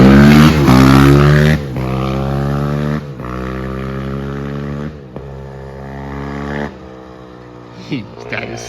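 A dirt bike engine being ridden close by, loud and droning, with repeated rising revs that dip and climb again through the gears, then fades somewhat toward the end.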